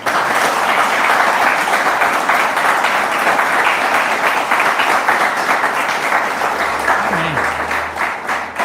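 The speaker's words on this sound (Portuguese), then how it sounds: "Dê uma salva de palmas para Jesus" Loud, sustained applause from a church congregation clapping for Jesus during a worship service, dense and steady from start to finish, easing only slightly in the last second.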